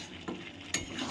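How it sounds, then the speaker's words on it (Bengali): Chicken kosha being stir-fried in a pan, with soft sizzling and two sharp scrapes of a spoon against the pan, quiet and close with no talking. "আমি এরকমভাবে আরও বেশ খানিকক্ষণ কষিয়ে নেব মাংসটাকে"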